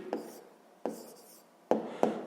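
Pen or pencil writing out a sixth-grade math exercise answer, heard as a few short scratchy strokes in quick bursts separated by brief pauses, close and fairly quiet with no talk.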